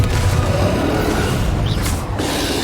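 A Confringo fire-spell explosion in Hogwarts Legacy, a short, dense burst of booming, rushing noise that fills the moment and fades back to a low rumble.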